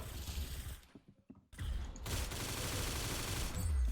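A long range gun fires in the Roblox game Arsenal, producing dense, loud gunfire bursts with a brief quieter gap before the shooting resumes and continues.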